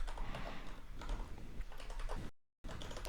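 Rapid typing on a computer keyboard during a live coding session, a dense continuous patter of key clicks that breaks off briefly near the end and then resumes, with no voices.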